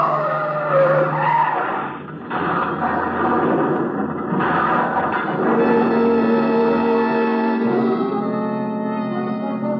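A car skids around a curve at night in a radio drama effect, its tires squealing loudly and continuously for several seconds over a roaring engine, with no voices.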